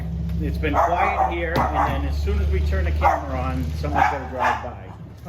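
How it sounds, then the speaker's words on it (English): A dog barks repeatedly in the background outdoors beside a Char-Griller Gravity Fed 980 grill, sharp yips cutting through steady close talking from a man. "we apologize for the barking dog"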